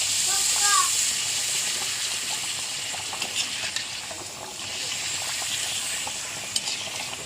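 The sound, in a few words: papad frying in hot oil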